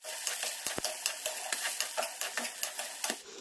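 Green peas being stirred and dry-roasted in a kadai in a home kitchen: a near, rhythmic scrape and clatter of a spoon against the pan over a soft background hiss, with no talking.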